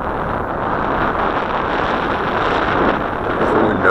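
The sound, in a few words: wind blowing outdoors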